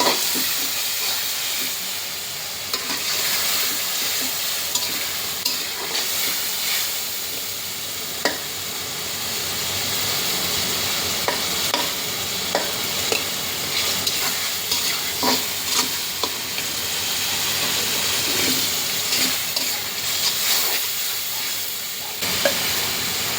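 Chopped tomatoes sizzle and hiss steadily in a hot pan for loitta fish bhuna, with frequent spoon scrapes and clacks as they are stirred, close and continuous with no talking.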